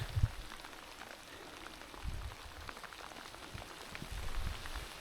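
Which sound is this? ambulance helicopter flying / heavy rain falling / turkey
heavy rain falling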